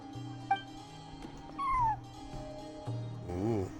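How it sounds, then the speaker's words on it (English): A cat in the video game Genshin Impact gives a short rising-then-falling meow over soft in-game background music, with a few other faint game sounds around it. "Or no, just a normal cat."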